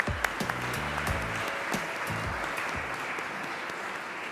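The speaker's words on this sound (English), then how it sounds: "Another round of applause for the winning project." An audience at an international green-building awards ceremony applauds the winning project, a steady moderate patter of clapping that runs the whole stretch with a faint low tone underneath.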